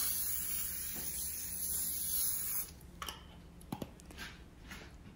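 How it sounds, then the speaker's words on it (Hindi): Olive oil from a spray bottle is misted over raw salmon for garlic roasting, a steady close hiss for about two and a half seconds. After it stop, a few soft clicks and light handling taps follow. "अभी मैं ऑलिव ऑयल स्प्रे कर दूंगी इसके ऊपर।"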